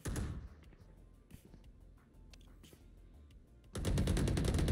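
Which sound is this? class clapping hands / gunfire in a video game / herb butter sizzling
gunfire in a video game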